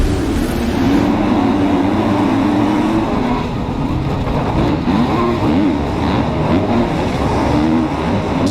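Supercross motorcycles racing in the Anaheim final, a dense, continuous engine roar from many bikes at once, steady and loud throughout with pitch rising and falling as riders accelerate.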